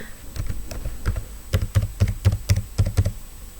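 A computer keyboard being typed on while entering a number into an Excel spreadsheet, a close run of crisp clicking keystrokes that starts sparse and speeds into a steady, fairly loud rhythm, with no talk over it.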